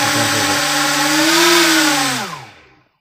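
A brushless motor driven by an ESC in neutral mode spins with a loud, steady whine that rises slightly in pitch, then winds down and fades out over the last half second.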